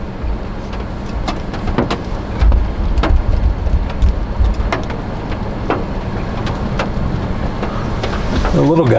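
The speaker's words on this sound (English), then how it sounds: "There is hail on this." Hail from a supercell storm in Council, Idaho strikes a vehicle in scattered sharp ticks and clacks over a steady rumble of rain and an engine, with voices talking partway through.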